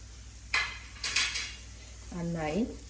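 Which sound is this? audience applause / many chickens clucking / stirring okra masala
stirring okra masala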